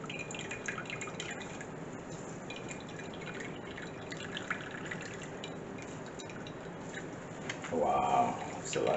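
Liquid drips and trickles steadily from grated cassava as it is squeezed by hand, a continuous close wet sound, and a person talks toward the end.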